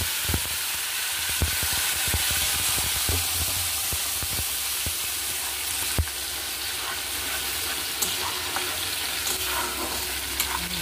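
A paste of ground ginger, garlic, green chilli, tomato and onion sizzles steadily in oil left from frying fish, a loud, constant hiss broken by occasional clinks of stirring, with no talk.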